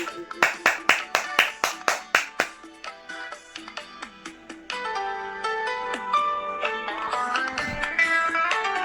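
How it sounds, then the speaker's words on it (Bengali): An audience claps in steady rhythm for a singer, crisp regular claps that give way to music and tones; the clapping is fairly close and moderately loud. "বন্ধুরা, পিছনে একটু হাততালি দেবেন প্লিজ।"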